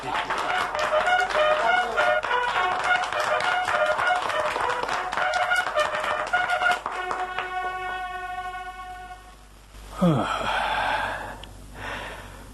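Crowd applause at a Republic Day village flag hoisting, dense clapping for several seconds that thins out, followed by a brief swooping effect and renewed noise.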